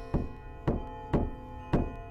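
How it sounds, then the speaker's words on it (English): Knocking on a door in a dark horror video game: four dull, evenly spaced thuds about half a second apart, close and fairly quiet against a low hum, with no voices. "someone's knocking at my door?"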